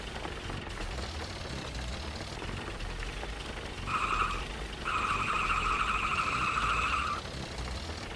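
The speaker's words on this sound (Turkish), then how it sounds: "Vay be ne kaydırdım be" A car in the Jalopy video game slides on a dirt road, its engine rumbling steadily beneath two squealing skids: a short burst, then a longer slide of about two seconds.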